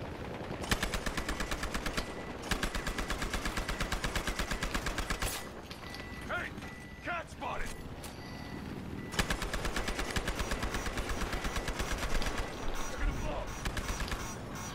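Rapid automatic gunfire in the multiplayer shooter Battlefield Hardline, dense sustained bursts of close, loud shots with a short pause midway, under occasional voices talking.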